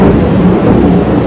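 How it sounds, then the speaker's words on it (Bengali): Loud, close thunder rumbling during a heavy Kalbaishakhi rainstorm, with rain noise beneath the deep continuous roll and no talking. "জোরে জোরে বাজও পড়ছে।"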